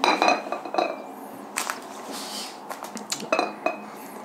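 A plate is set over a teapot of strong brewed chifir tea, giving sharp ceramic clinks and clatters in several short bursts close to the listener, with quiet gaps between them.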